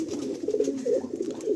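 Pigeons offered for sale in Kolkata coo in a steady, low, rolling murmur that runs throughout, close and continuous with no talking.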